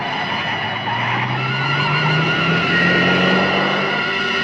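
A car lurks in a city alley at night, its engine growling loudly while tires skid and squeal in a long, continuous smear, with no voices over it.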